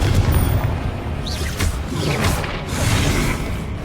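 Confringo spell blasts in the game Hogwarts Legacy, heard as booming, whooshing impacts amid a continuous rumbling fight with mechanical clatter throughout.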